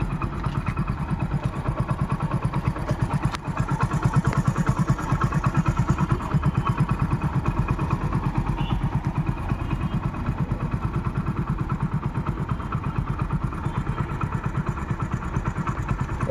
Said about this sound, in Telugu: ఇంజన్ సౌండ్ కూడా వినండి మీరు క్లారిటీగా.